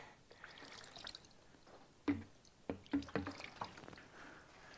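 Water splashes and drips in irregular bursts while motorcycle parts are rinsed of solvent during a Honda motorcycle restoration, quiet and close, with several sharper splashes in the middle.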